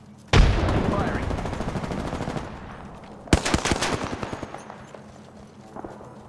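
An R-99 submachine gun in Apex Legends fires two rapid full-auto bursts, the first about two seconds long and the second shorter and fading, loud and close with little else in between.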